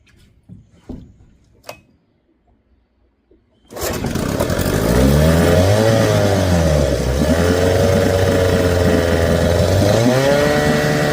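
A 6hp Johnson outboard motor coughs, then catches and runs loudly and steadily, its pitch rising and falling as the throttle is worked, after a few faint knocks and handling sounds.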